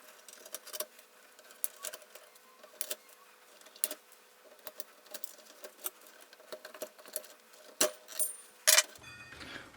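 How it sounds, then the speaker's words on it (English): A side cutter snips cable ties inside an Onkyo TX-DS575 AV receiver, giving a series of sharp, irregular clicks and snaps with small metallic rattles, close up and quiet apart from a few louder cuts. "start to get in there with a side cutter and undo all the cable ties that hold the cables on top of this cooling block"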